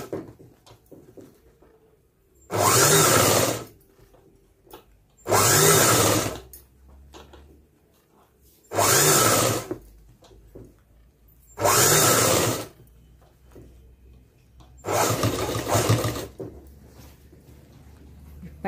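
A sewing machine stitches a blouse in five loud, even bursts of a few seconds each, separated by short pauses of near silence.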